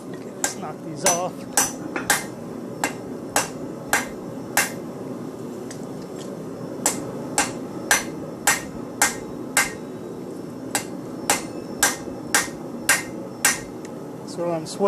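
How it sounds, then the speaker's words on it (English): Close, loud hammer blows ring on metal at an anvil while forging a nutcracker, arriving in quick bursts and short runs with brief pauses between. "So when I'm swinging, I'm actually swinging up. I'm hitting it up. So I'm not hammering into my anvil."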